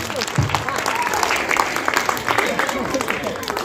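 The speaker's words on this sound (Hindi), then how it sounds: "जोरदार तालियां इस छोटी सी बच्ची के जज्बे के लिए।" Audience at a Republic Day celebration applauding a little girl's speech, lively many-handed clapping running throughout with a voice carrying over it.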